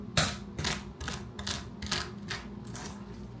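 A boiled egg's shell is cracked and peeled up close, giving a series of about seven crisp crackling snaps in an uneven rhythm, quiet and with no talking.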